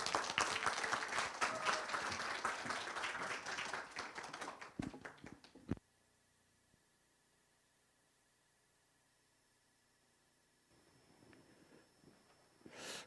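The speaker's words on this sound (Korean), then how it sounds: "큰 박수 부탁드립니다" An audience at the 2020 Wonju book festival applauds as poet Na Tae-joo takes the stage, a loud, dense burst of clapping lasting about five seconds before cutting to near silence, with faint shuffling toward the end.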